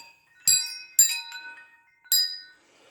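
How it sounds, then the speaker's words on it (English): Homemade, finely tuned wind chimes struck with an oak striker ring out in three separate bright metallic strikes, each leaving a shimmering ringing tail, sounding close and clear with no talk. "some wind chimes"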